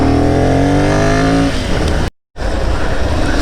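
A Ducati Monster 795 motorcycle engine revs hard in first gear, loud and close, its rising whine climbing and then breaking into a rough, throaty roar with a brief cutout near the end.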